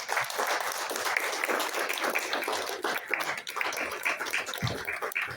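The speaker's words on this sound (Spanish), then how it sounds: "Pueden darle un aplauso al Señor Jesús." A church congregation applauds during a sermon on communion: steady, crowded clapping from many hands at moderate loudness, continuous for several seconds with a faint voice or two underneath.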